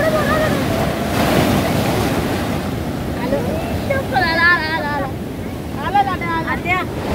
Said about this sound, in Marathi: बघा ना केवढ्या मोठ्या लाटा येत आहेत.